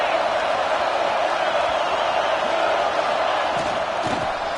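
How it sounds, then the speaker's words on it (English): A stadium crowd at a Florida State versus Notre Dame football game roars loudly and continuously on second down, a dense sustained cheer with shouts rising near the end. "this crowd is turning it up a notch"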